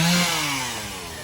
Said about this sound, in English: Sorry, the chainsaw's running.